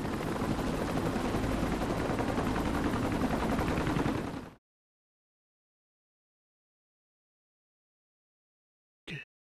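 Sustained heavy gunfire from Saints Row: The Third Remastered, loud and continuous for about four and a half seconds, then cutting to silence with one brief burst near the end.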